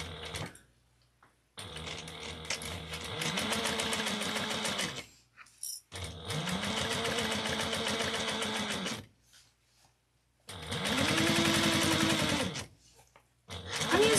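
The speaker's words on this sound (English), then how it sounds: "So we're going to top stitch this at 1/8 of an inch" Sewing machine fitted with a 90/14 needle top-stitching a 1/8-inch seam through a few layers of fabric: three long runs of steady, rapid mechanical whirring, separated by short silent pauses, close and moderately loud.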